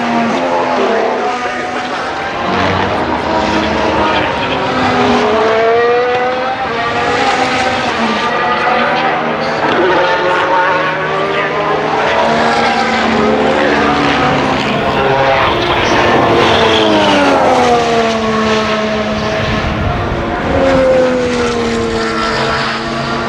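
2025 Formula 1 race cars at speed at Silverstone during the British Grand Prix, high-pitched engine screams rising and falling continuously as cars pass, loud and sustained with crowd and track ambience.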